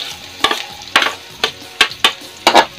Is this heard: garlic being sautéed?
yes